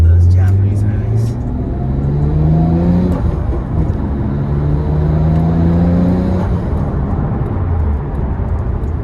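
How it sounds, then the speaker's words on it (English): A Nissan Skyline GT-R R34 M-Spec Nür's engine droning steadily on a highway, with low rising and falling harmonics as it accelerates, loud and continuous for several seconds. "I love the way it roars on those Japanese highways"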